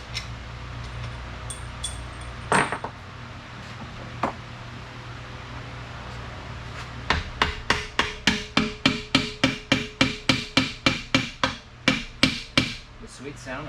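Repeated sharp hammer strikes on a Polaris Ranger 800 ball joint to break it loose, a steady rhythmic run of about a dozen loud metallic blows after a few scattered earlier hits, close up in a workshop.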